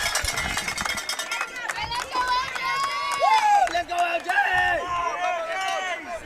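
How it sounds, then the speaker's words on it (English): Crowd at a high school baseball playoff game, Kenedy Lions against Flatonia Bulldogs, cheering and shouting nearby, with people talking over the noise as the cheers swell and fade. "That crowd is right behind us and loud"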